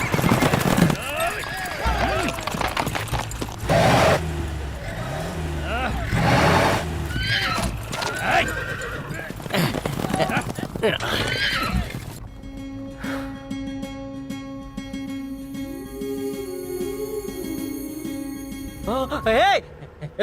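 Horses neigh and whinny amid a chaotic buzkashi game where riders fight over a dead goat, with hoofbeats and shouting voices in the first half, then the scene shifts to steady music-like tones.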